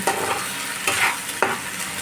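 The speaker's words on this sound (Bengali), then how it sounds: "এটা একটু নেড়ে খালি" Cumin seeds and whole spices such as cinnamon frying in a pan for jeera rice, a steady close sizzle broken by a few scraping stirs of a spatula, with no talk.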